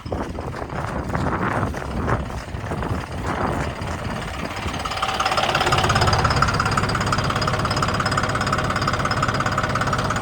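A 5210 tractor engine runs in a wheat field during spraying, a close, steady knocking diesel drone that grows louder and denser partway through.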